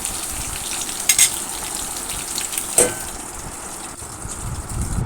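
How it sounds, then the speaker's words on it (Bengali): Pointed gourd frying in oil in a covered pan, a continuous close sizzle and hiss with a few louder spattering pops and brief clatters. "পটলগুলো এদিকে ভাজা হতে থাকুক"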